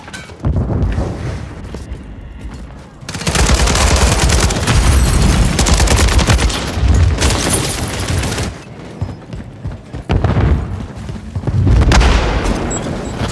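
A Semtex grenade explosion and sustained gunfire from an AK-47 in the video game Call of Duty Modern Warfare 3 (2023) boom and rattle loudly, with long dense bursts of rapid shots broken by brief quieter gaps.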